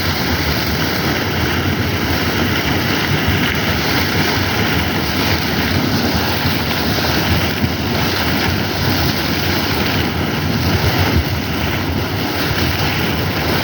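A geyser erupts from the ground, spraying water in a loud, continuous, close rushing hiss that holds steady without breaks and has no speech over it.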